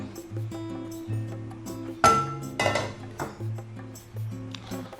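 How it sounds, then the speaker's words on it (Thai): A metal pan clanks sharply onto a stovetop as cooking of Japanese curry begins, a single loud clatter with a few lighter clinks around it, all set against steady background music. "เปิดเตาก่อนเลยนะครับ ใส่น้ำมันลงไป เล็กน้อยนะครับ"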